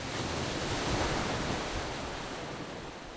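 Sea waves wash onto the shore near Jaco Island at the eastern tip of East Timor, a steady broadband surf roar close by with light wind noise and no voices.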